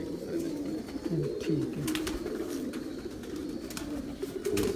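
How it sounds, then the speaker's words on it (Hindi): Kamagar pigeons on a rooftop loft give repeated rolling coos, fairly close and clear, with brief sharp clicks or taps and a short spoken remark partway through. "कमगर कबूतर जी बिल्कुल प्योर कमगर कबूतर जी"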